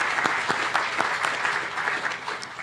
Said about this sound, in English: Let me just round of applause for all 4 of those partners.